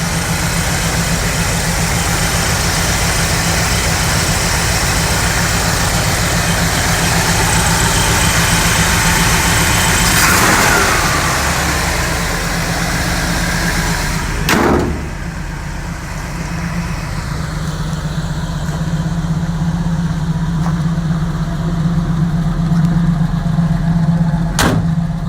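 A 1955 Chevy truck engine idles stone cold at a high idle on its electric choke, a steady, loud, continuous rumble with a couple of brief sharp transients partway through and no voices.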